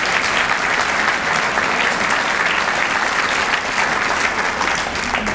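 A loud, dense round of applause from the audience at a city's State of the City address, continuous clapping with no pause throughout.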